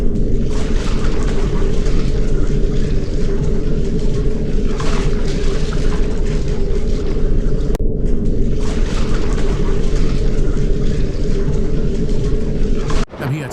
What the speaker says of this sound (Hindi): तभी अचानक पानी में जोर का हलचल हुआ और एक बड़ा डरावना तूफान आ गया।